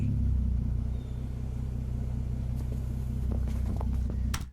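A car's engine and aftermarket exhaust rumble steadily with a deep, meaty low tone, close and loud throughout, with a few faint knocks near the end.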